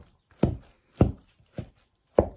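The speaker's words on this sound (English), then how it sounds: "Just break up the mincemeat." Mincemeat is broken up in a bowl with four separate, close, dull knocks spaced at irregular intervals.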